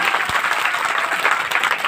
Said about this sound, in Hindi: बजाओ जोरदार तालियां।